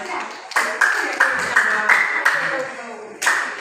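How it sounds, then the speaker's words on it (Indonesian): A group of students in a high school classroom claps in a quick rhythmic pattern of sharp bursts, close and fairly loud, with voices mixed in. "Tepuk tangan dulu semuanya."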